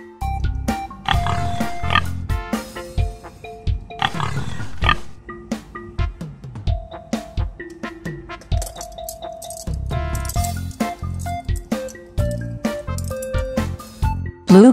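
Repeated oinks from a cartoon pig on a children's farmhouse show, snorting grunts popping up among cheerful melodic notes and light percussion, ending in a brief louder burst.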